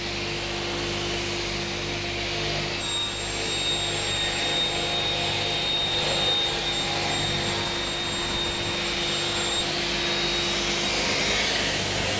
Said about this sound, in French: J'ai dédié cet aspirateur-là à cette machine